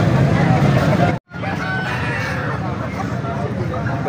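Aseel roosters crow at a busy Sunday chicken market in Lahore, their calls rising over dense crowd babble and market noise, with a short break in the sound early on.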